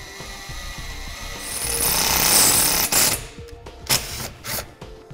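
A power drill bores a hole into a vehicle bumper for a self-tapping screw, whining steadily as it builds in intensity, then trailing off into a few short bursts and clicks.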